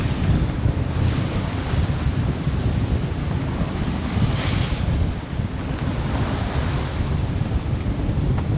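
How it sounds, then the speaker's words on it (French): Wake waves from a passing cargo ship slosh and wash against a sailboat at sea on the way to Fort-de-France, Martinique, heard as a continuous loud rush of water under heavy wind buffeting on the microphone. "Il va nous faire de ces vagues celui-là."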